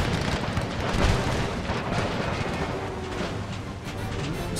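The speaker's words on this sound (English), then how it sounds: "excellent artillery shots there" Artillery fire on a battlefield in Empire Total War, a dense, continuous rumble of booming cannon shots blending into a loud wash of battle noise.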